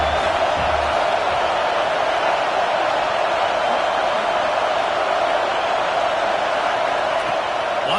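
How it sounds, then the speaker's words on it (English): A roaring home stadium crowd in the video game College Football 26 during an SEC dynasty matchup, a dense, steady wash of cheering noise that stays loud and constant throughout, with no individual voices standing out. "how nice is it to have the home crowd going absolutely bananas?"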